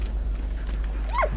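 A dog in the wartime puzzle game Valiant Hearts gives one short, rising yelp near the end, heard over a steady low hum of game ambience.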